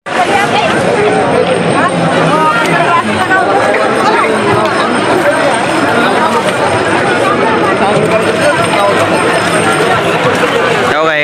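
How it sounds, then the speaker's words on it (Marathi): Thick, steady hubbub of a large pilgrim crowd at the Pandharpur Wari, many voices chattering close by without pause. "केवढी गर्दी आहे."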